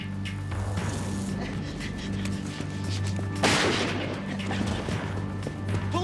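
A single loud gunshot cracks out midway through a noisy, tense scene, over a steady low rumble and busy background sound.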